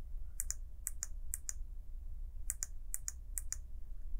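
Crisp, close mouse double-clicks in computer-aided CNC lathe programming software, six quick pairs in two evenly spaced groups of three over a quiet room hum.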